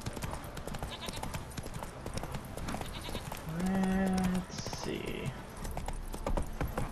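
Hooves of Geralt's horse Roach clip-clop in The Witcher 3, a steady rhythmic trot under bleating goats and a brief spoken remark.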